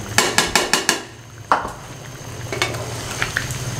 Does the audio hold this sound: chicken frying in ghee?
yes